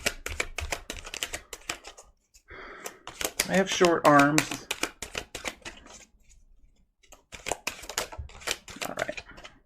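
Wheel of the Year tarot cards being shuffled by hand, a dense patter of rapid crisp riffles close to the mic, broken by a brief spoken remark before the shuffling resumes.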